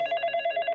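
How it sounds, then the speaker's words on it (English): A telephone bell rings in rapid, evenly pulsing bursts, loud and close, with no other sound around it. "the phone rings."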